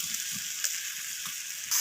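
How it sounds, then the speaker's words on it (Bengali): Nalte greens sautéing in rohu fish oil in a pan, a bright steady hiss of frying with faint soft stirring thumps underneath, close and even, with no voices. "তো শাকগুলোকে দিয়ে আমি আবারও কষিয়ে নিচ্ছি।"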